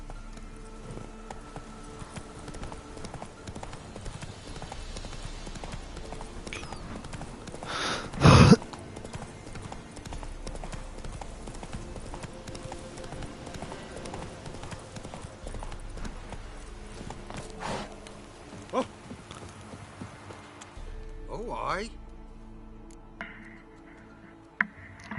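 Hooves of Roach, the horse in The Witcher 3: Wild Hunt, clip-clopping in a steady walking rhythm through a long stretch, close and moderate, with one sharp louder knock partway through.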